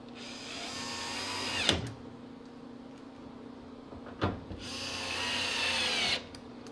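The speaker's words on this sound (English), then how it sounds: "we switch bits again, and we're going to put these 4 screws back in" A power drill drives screws into the panel of a GE gas dryer being converted to propane, with two close, high whirring bursts separated by metallic clicks and clunks.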